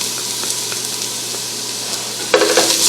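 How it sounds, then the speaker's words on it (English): Chopped onions and garlic sizzle loudly and steadily in a frying pan for a keto Zuppa Toscana. Near the end, a burst of spoon stirring rises over the frying. "Give it a stir."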